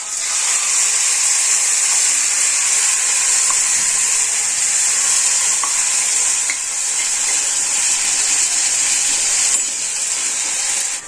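Shev bhaji masala of onion, coconut and garlic ground with milk sizzles steadily in a hot pan, a loud, continuous frying hiss that carries on without a break.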